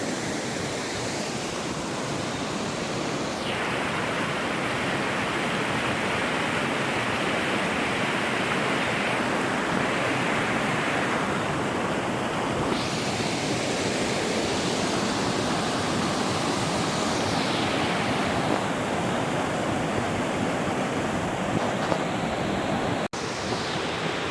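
Rushing water in the Miandam valley in Swat, a loud, constant roar of flowing stream or falls that fills the scene unbroken, with no voices.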